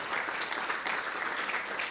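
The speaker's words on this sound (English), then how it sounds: "I think that's a round of applause that we can have right here and right then" An audience at UTS Venture Day 2021 gives a round of applause after a cash award is announced, a sustained, dense clapping of many people at an even moderate loudness, uninterrupted by speech.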